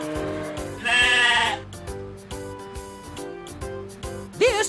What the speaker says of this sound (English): This is a mountain goat.